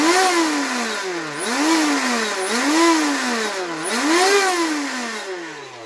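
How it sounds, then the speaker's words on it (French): Electric motor of a new RC monster boat running out of the water, a loud close high-pitched whine that repeatedly rises and falls as it revs up and down in several swooping cycles. "c'est le moteur qui tourne"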